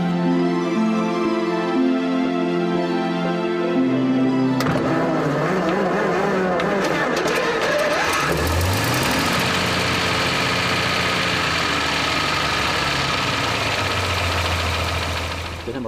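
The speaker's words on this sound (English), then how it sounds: "When you start the engine, you think more of an airship than a car." A low tonal hum gives way to a vintage Maybach Zeppelin's big double-six engine cranking and catching, then settling into a loud, deep, steady idle that continues to the end.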